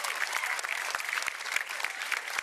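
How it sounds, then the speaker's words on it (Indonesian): Audience applause for a stand-up comedian at a comedy show: dense, steady clapping from a full crowd, fairly close and sustained throughout with no voices over it. "Kita beri tepuk tangan yang meriah untuk Inyoman Adiferi."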